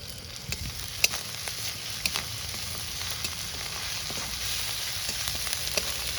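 Green chilies sizzle and fry in a hot karahi during village cooking of spicy rohu fish curry, a steady crackling hiss with scattered sharp pops and occasional stirring clinks, close and continuous with no talk.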